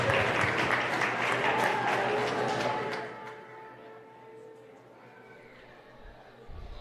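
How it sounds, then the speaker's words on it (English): An audience at an annual school achievement day ceremony claps loudly, a dense roar of hands that fades over about three seconds into quiet room tone with a faint low hum and stray sounds. "Let's give her a round of applause one more time."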